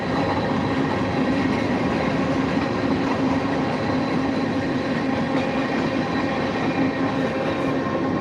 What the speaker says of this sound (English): Damn, that was a short train.